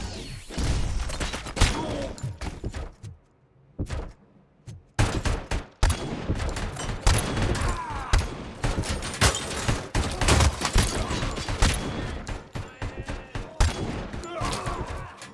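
Rapid gunfire from the video game RoboCop: Rogue City, loud repeated bursts of shots with sharp impacts and thuds, broken by a brief lull near the four-second mark before the firing resumes densely.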